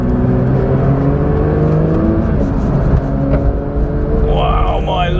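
A Porsche 992.1 911 GT3 climbs a mountain road, its engine droning steadily with shifting revs, close and loud, while a voice talks over it.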